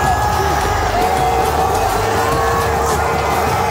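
Football fans roar after Messi's extra-time goal in the World Cup final, a loud, continuous crowd cheer with whoops, steady and dense throughout.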